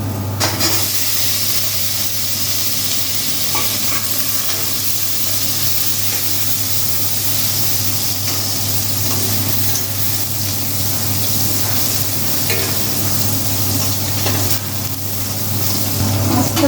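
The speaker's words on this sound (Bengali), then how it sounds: "সামান্য নুন দিলাম কুমড়োগুলো দিয়ে দিচ্ছি" Chunks of ash gourd (chalkumro) dropped into a hot pan with a little salt give a loud, steady broadband sizzle that holds evenly from start to end, with no talking over it.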